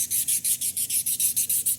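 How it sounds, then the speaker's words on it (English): Crankshaft thrust surface on a 350 small block Chevy being polished by hand with 800 grit sandpaper, a quick even rhythm of about a dozen close, bright rubbing strokes. "You just want to basically polish that thrust and smooth it out."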